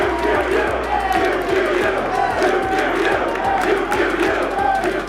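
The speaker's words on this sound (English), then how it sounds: "The crowd is going nuts right now." Tournament crowd at a Super Smash Bros. Melee match chanting loudly and rhythmically, a dense roar of many voices with steady beats of shouting that fills the whole stretch.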